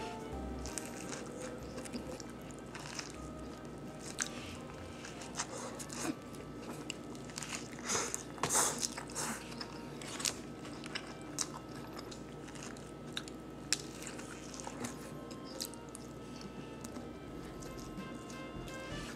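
Someone eating a Lotteria chicken burger with mustard and hot sauce, soft close-up biting and chewing with faint crunches over a steady background hum.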